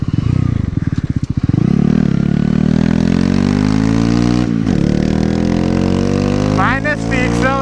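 A 125cc motorcycle on a test ride after a build, its engine revving and climbing steadily in pitch as it accelerates, loud and close with wind noise and a brief voice near the end.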